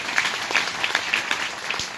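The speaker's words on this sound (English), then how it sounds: "Give the Lord a hand clap." A church congregation claps hands for about two seconds, a lively mix of many overlapping claps at moderate loudness, with no speech.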